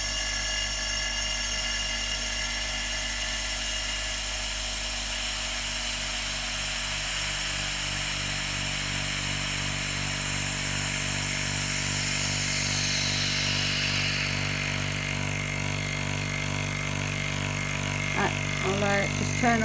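A vacuum pump on a vacuum pot runs steadily and loudly, a continuous motor drone with strong low hum and broadband hiss, while a person talks over it; brief clicks sound near the end.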